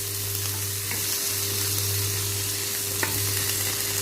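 Vegetables sautéing on a hot tawa give a steady, close sizzle and frying hiss with faint stirring clinks and no talk.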